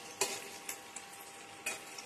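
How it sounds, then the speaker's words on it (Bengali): Pakoras shallow-fry in a moderate amount of oil, giving a faint, continuous crackling sizzle broken by a few soft clicks of a utensil. "আমি মানে বেশি তেলে, একদম হিউজ তেলে ভাজছি না, মোটামুটি তেলে ভাজছি"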